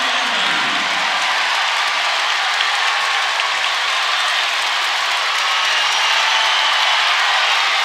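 A judo arena crowd at the Paris Grand Slam roars and cheers in a dense, continuous wash of noise that stays loud and even throughout, with no distinct voices standing out.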